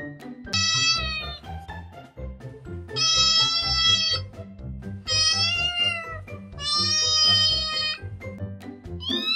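Several cats meow in a series of long, loud, harmonic cries, each lasting about a second, with a low rumbling background underneath.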